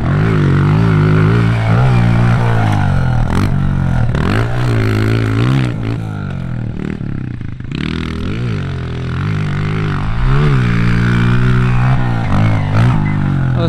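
A pit bike laps a backyard supercross track, its engine close and loud throughout, revving up and dropping off again and again as the rider works through the turns and jumps.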